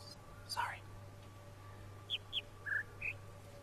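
Bird call puzzle in the video game The Witness: four short, clear whistled chirps at different pitches in a low-high pattern, faint and isolated, preceded by a brief rising whistle.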